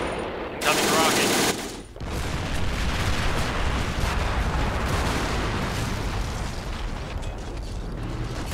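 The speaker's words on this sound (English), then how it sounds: "Incoming rocket." Rocket fire in a war video game, with a loud roaring blast that gives way to sustained dense rumbling and crackling gunfire, close and steady throughout.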